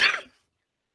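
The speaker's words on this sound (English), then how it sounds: "I got to cough." A single short, harsh cough bursts out close up, then cuts off into silence.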